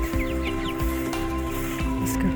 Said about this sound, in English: Coming out to check the chickens.